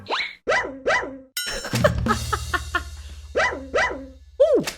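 A man imitates a dog in a Free Fire game session, giving a run of short barks and yips with a whimpering howl at the end, loud and close, over faint game sounds and a thudding background.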